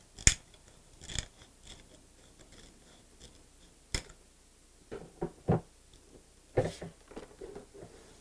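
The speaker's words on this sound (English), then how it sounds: "just trim the bottom of your cap just a little bit to get a nice straight edge" Sharp, isolated snips of scissors trimming a plastic bottle cap, a handful of quick cuts spaced irregularly in an otherwise quiet space.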